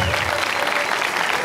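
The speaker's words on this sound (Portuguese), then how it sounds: "Pode aplaudir, pode" Applause from the crowd at a political party meeting in São Paulo, a thick, steady burst of many people clapping, loud and sustained with murmuring voices mixed in.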